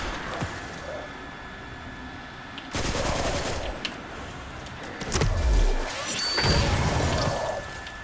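Gunfire in Destiny 2 Beyond Light, with bursts of rapid shots and crashing impacts spread across the clip over a noisy in-game background, without speech.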